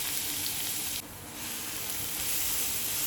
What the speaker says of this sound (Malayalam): പാനിലേക്ക് കുറച്ച് വെളിച്ചെണ്ണ ഒഴിച്ച് നമുക്ക് ഉള്ളി ഒന്ന്